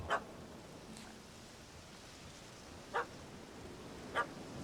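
A puppy in The Witcher 3 gives three short, sharp barks, spaced a second or more apart, moderately close over a quiet background hiss.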